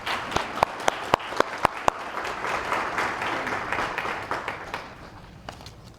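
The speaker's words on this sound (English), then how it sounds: "Please help me give them a round of applause." Audience at a business school awards banquet applauding the top sales team, a sustained wash of many hands with a few sharp, close claps standing out early on.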